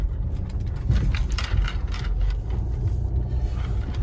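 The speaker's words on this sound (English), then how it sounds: "So we got some true off-roading right now." A Volvo XC90 Momentum drives off-road on unpaved ground, with a steady low rumble of engine and tires that holds through the whole stretch and no voices.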